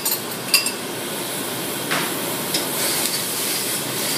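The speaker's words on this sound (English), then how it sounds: "See now the onions are sweated down, so we're just adding the tomatoes." Chopped tomatoes go into a pan of sweated onions, celery and garlic, a soft steady sizzle broken by a few light clinks and scrapes of utensil on metal.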